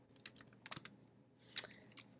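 Typing on a computer keyboard: sparse, close, irregular key clicks in small bursts with quiet gaps, one sharper tap near the end.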